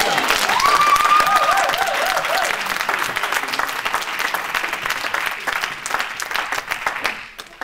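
A church congregation breaks into sustained, dense applause that stays loud, then gradually thins toward the end, with a brief sung or called voice rising over the clapping early on.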